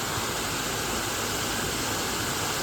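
A small waterfall in Kerala gives off a steady, even rush of falling water, a constant broadband roar with no breaks and no voices.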